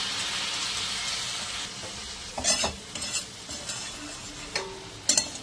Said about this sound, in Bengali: নাড়াচাড়া করে জলটা ঢেলে দিলাম